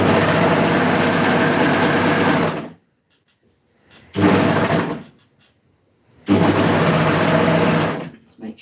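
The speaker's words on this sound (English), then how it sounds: "Let's make sure that my seam is lying flat as I serge over it, or overlap over it." A serger overlocks a skirt seam, whirring loudly and steadily in three bursts of a few seconds each, separated by quiet pauses, close by and without talk.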